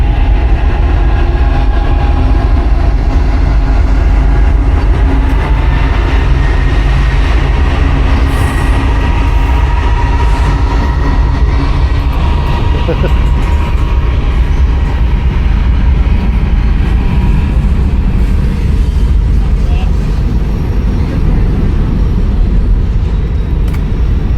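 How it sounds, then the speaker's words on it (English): A train rolls across a railway bridge in downtown Austin, Texas, its wheels and cars making a loud, steady rumble that fills the whole stretch, with faint squeals from the rails and no talking. "there's a train."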